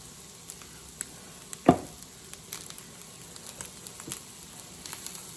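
Garlic sizzling in a pan for fried rice, a soft steady hiss with a sharp spit or clatter near the start and a few small pops, close and fairly quiet.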